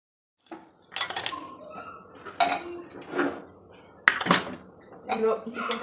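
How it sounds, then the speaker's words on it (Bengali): Dishes being washed, a pressure cooker and bowls knocked and clinked in a sink, with irregular clattering bursts close by and occasional speech. "যে কয়টা বাসন ছিল ধুয়ে নিলাম"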